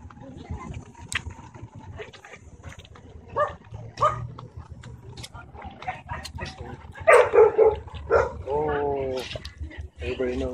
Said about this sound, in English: Pardon my rude dog.